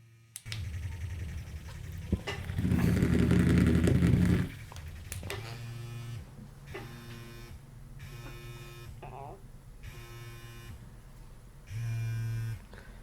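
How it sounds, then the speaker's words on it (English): The motor of a Tracy's Dog OG 3 device buzzes and vibrates through its patterns: a long steady buzz, then a string of short pulsing bursts and stutters, fairly faint and close. "the vibration patterns, we can change it by just short pressing. And then I'll go through all the different patterns"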